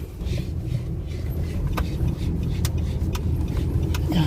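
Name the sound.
Nissan Calibre car driving on a test drive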